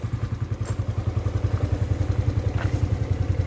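A 2004 Suzuki Shogun 125 R underbone motorcycle engine runs close by with a steady, rapid low-pitched exhaust pulse, the throttle held up in a sustained rev with no talking.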